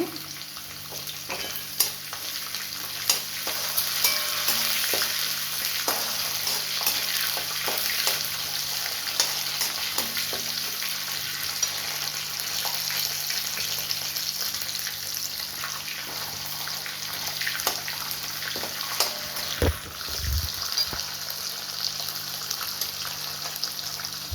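Beans tossed into a pan of frying masala upma for Karnataka-style khara bath, giving a steady close sizzle with scraping stir strokes and a brief louder splash near the end, no talking.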